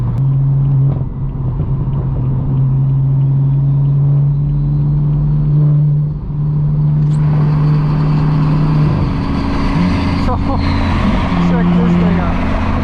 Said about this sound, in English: We just caught up to the DDE Tire Slayer twin turbo Huracan. Wow. Listen to that.